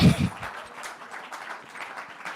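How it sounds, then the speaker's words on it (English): An audience claps for a speaker at a talk on safeguarding children with responsible AI: a soft, scattered round of applause, fairly distant and steady, with a brief louder voice-like burst at the very start. "now he's recording the audience, clapping for him"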